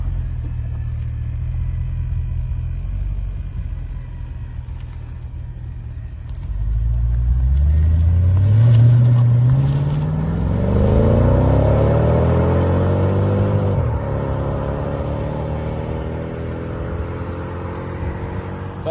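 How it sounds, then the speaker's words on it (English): A 2003 Mercedes CL 55 AMG V8 rumbling at idle, then pulling away with a smooth rising surge and a second climbing pull before settling to a steady cruise, close and fairly loud. "the motor is silky smooth, and it's really, really nice. Sounds lovely as well once it's going."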